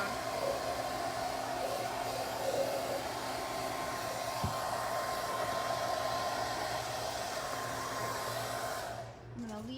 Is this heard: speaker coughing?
no